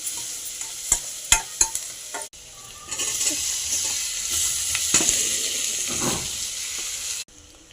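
Potatoes fry and are stirred in a pan for curry: a few sharp spoon knocks against the pan first, then a steady close sizzle with scraping stirs running through it, ending abruptly.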